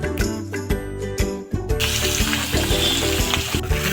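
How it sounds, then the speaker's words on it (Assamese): Rohu fish frying in hot oil in a pan for a traditional Assamese dish, a loud steady sizzle with crackling bursts and a few clattering stirs and knocks; no talking. "মাছটো ভজা হৈ গ'ল, কাঢ়ি দিব এতিয়া"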